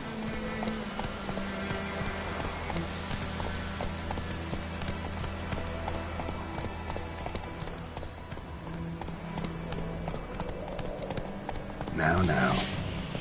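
Horse Roach galloping in The Witcher 3, a steady clip-clop of hooves running under game music and ambience, with voices talking over it throughout.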